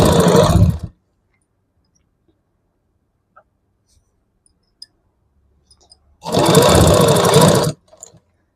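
A sewing machine stitches fabric together with its lining in two loud, close bursts of rapid mechanical whirring, the first short and the second about a second and a half long, separated by near silence with faint clicks.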